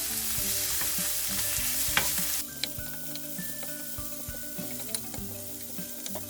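Cucumber is stir-fried over high heat with a strong, continuous sizzle that drops in level midway, marked by scattered clicks of the utensil against the pan.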